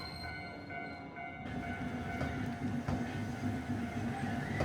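A tram on a busy street in Osaka's retro district near Tsutenkaku Tower, a steady rumbling roll with tonal hums and squeals from wheels and motors, continuous and fairly close, with brief clunks from the track.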